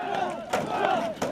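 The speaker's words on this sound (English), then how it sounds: "disperse the group of aggravated rioters" Crowd of aggravated rioters shouting and yelling together during riot control training, a loud, dense wall of overlapping voices with sharp surges in intensity, heard close.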